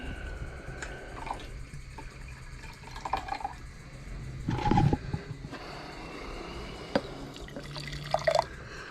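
Refined gold powder being rinsed with water to wash out hydrochloric acid: soft drips and liquid trickles, with a brief louder splash or pour midway and faint clinks, all fairly quiet and close.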